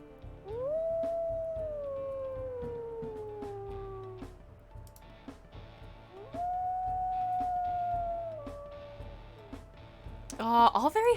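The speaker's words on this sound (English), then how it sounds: "Oh, all very high-pitched howls." Two long, high-pitched wolf howls from the video game WolfQuest Anniversary Edition, each rising then sliding slowly downward, with a soft low rumble underneath and a brief burst of clatter at the end.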